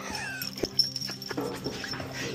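Dogs yelp and whine in short, close bursts over a steady background hum, with a few sharper yips breaking through.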